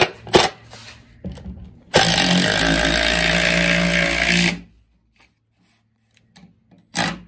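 A power driver sends a bolt with a washer into a drilled hole in a 2x4. One loud, steady whir runs for about two and a half seconds, framed by a few short knocks and handling noises, with no talking.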